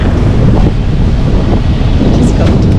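Strong wind at sea while sailing in the Arctic roars and buffets the microphone in a loud, unbroken rumble, with waves washing beneath and faint voices barely showing through.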